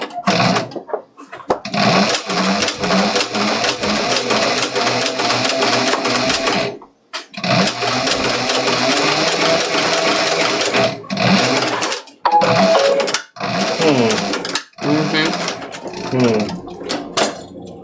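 A sewing machine stitches a backstitch while an explorer backpack is being made, running in close, loud bursts separated by brief pauses, with a few short stops and restarts.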